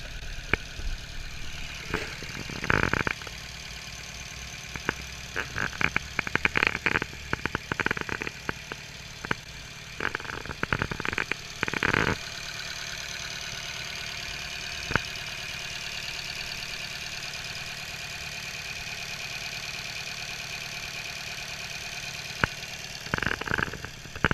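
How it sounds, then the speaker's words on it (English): A 2012 Fiat Abarth engine idles roughly after starting with an uneven, lumpy rumble, punctuated by clattering knocks and surges, steady and close with no talking. "So, as I said, the engine sounds a bit rough."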